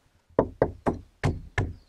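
Five firm knocks on a solid original wooden door of an abandoned old farmhouse, evenly spaced and close, each a sharp hollow thud with a short decay and no talking.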